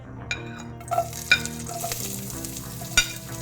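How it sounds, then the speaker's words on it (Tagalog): Garlic and ginger sauté in hot oil for native chicken binakol, a close crackling sizzle punctuated by a few sharp utensil clinks and scrapes as the pan is stirred. "Kapag mainit na, igisa muna natin yung bawang at saka luya"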